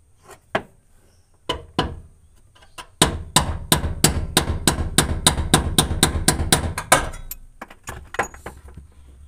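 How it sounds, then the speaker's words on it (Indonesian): A screwdriver is hammered counterclockwise against the fuel pump lock ring of a Chevrolet Lova: a few scattered sharp metallic taps, then a fast steady run of close, loud strikes that slows and thins out toward the end. "kita palu ke arah kiri atau berlawanan arah jarum jam ya"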